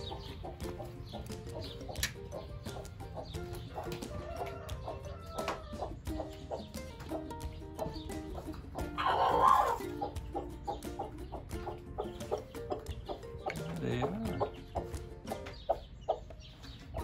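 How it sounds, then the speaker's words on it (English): Hens cluck and mutter continuously inside a garden chicken coop, with scattered sharp clicks and scratching and a louder squawk midway, heard close up and without talk. "It's my mom's chicken coop"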